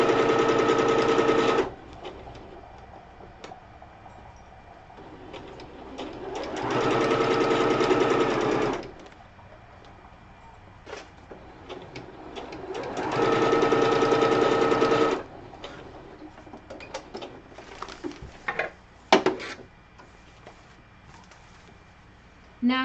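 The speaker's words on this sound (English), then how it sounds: "So I'm doing a straight stitch down the center of the zigzag stitch, attaching the flap to the outside cover." A sewing machine running a straight stitch through cosplay fabric, in three long steady whirring bursts separated by pauses filled with handling clicks and rustles.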